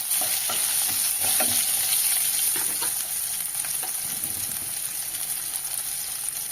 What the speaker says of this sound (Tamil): வெங்காயம் நல்லா வதக்கிக்கோங்க. இது கூடவே 6 பூண்டு பல் சேர்த்துக்கிறேங்க. அதுவும் நல்லா வதக்கிக்கோங்க.